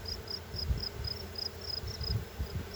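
Honey bees buzz during a hive inspection and split: a steady, close drone with a rising and falling pulse, plus a few soft low bumps from handling.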